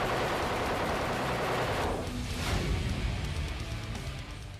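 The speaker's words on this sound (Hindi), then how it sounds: "ये राइफल 1 मिनट में 600 गोलियां" Dense, rapid bursts of automatic gunfire from an AK-203 assault rifle roar continuously, loud and close, with a slight shift in tone midway.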